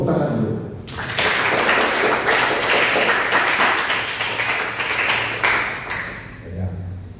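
A church congregation bursts into loud, sustained hand clapping during a sermon. The applause starts abruptly, keeps a dense rattling texture for about five seconds and then cuts off, with faint voices just before and after.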